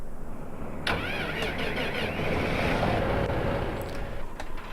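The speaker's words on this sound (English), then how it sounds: "Let's go ahead and start this tractor up, and we'll see how it goes." Massey Ferguson tractor engine in Farming Simulator 15 cranking and catching, then settling into a steady mid-pitched idle with small clicks, heard alone and up close.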